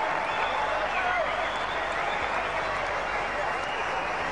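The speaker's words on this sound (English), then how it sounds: "The Sri Lankan spectators cheer" Sri Lankan spectators at a 2004 Test match against Australia in Kandy cheer and applaud a boundary, a continuous, even roar of clapping and crowd noise from a large stadium audience with blurred voices mixed in.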